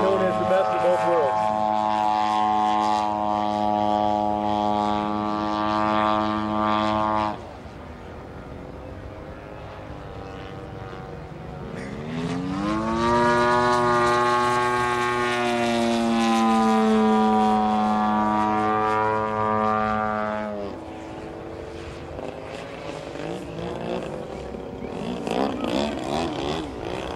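A 3D aerobatic RC model airplane with a high power-to-weight ratio flies a low pass at a model aircraft event, its propeller engine droning loudly, then dipping and surging again in pitch as it passes.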